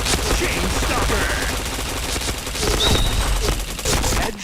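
Rapid bursts of automatic gunfire rattle almost continuously through a video game shooter match, loud and dense, layered with shots, impacts and game effects.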